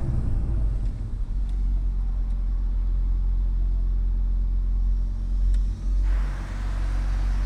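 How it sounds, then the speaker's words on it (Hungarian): An Audi TT RS five-cylinder engine with an aftermarket exhaust holds a deep, steady rumble close by, swelling slightly near the end, with no voices. "De ennek az 5 hengeres motornak az olyan jó hangja van."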